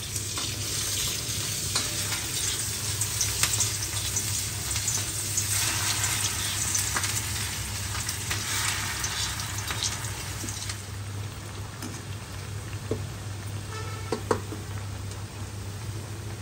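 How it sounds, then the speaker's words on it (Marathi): Coriander vadi slices deep frying in hot oil in a kadhai, a steady dense sizzle and bubbling that runs unbroken throughout, close and fairly loud, with occasional spoon clinks and stirring over it. "तर आता अशा प्रकारे मी सर्व वड्या तळून घेते"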